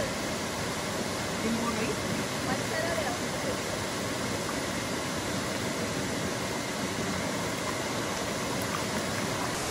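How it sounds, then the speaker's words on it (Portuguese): A huge waterfall at Sengés, Paraná, roars as a steady, loud broadband rush that fills the whole clip without a break, with a fine drizzle of spray nearby. "E do lado tem a queda gigante, enorme."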